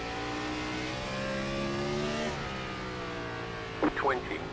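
NASCAR Gen 4 race cars in the video game iRacing at North Wilkesboro, engines droning steadily and then dropping in pitch as one car sweeps past, with a commentator speaking.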